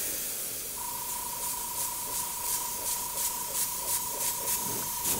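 An airbrush sprays paint onto the back heel cap of a shoe as a steady, close hiss that runs throughout. A thin constant tone sits over it, with soft pulsing bursts toward the end.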